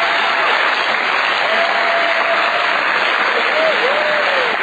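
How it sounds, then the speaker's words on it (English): Steady, loud applause from a Narcotics Anonymous audience fills the room, a dense wash of clapping with a faint voice rising briefly underneath. "thanks for applauding"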